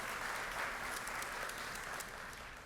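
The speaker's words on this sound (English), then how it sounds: "we owe them also a round of applause" Steady applause from the audience at a college nursing and healthcare white coat ceremony, a dense, even wash of clapping that holds throughout and tapers only slightly toward the end, with no talk over it.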